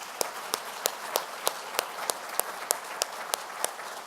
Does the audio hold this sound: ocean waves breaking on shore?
no